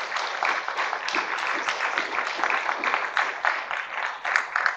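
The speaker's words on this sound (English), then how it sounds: "I would like to ask a round of applause for those of you who have given comments" A crowd at a public meeting applauds steadily, a dense patter of many hands clapping that continues without a break.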